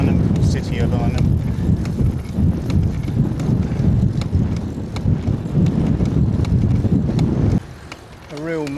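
Constant buffeting headwind roars across the microphone while cycling on a bridge near Arnhem, loud and gusty throughout with a brief drop near the end.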